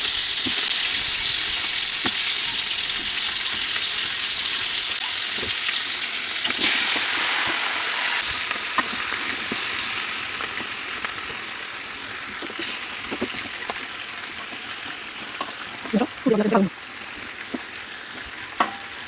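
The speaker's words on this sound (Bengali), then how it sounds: "এভাবে ডেকশিকে চতুর্পাশে তেলগুলো ডেকশিতে লাগিয়ে দিব এবং মাংসগুলো দিয়ে দেবো" Meat frying in oil inside a large cooking pot for kabab, a steady broad sizzle running throughout with occasional clinks and stirring knocks near the end, no voices.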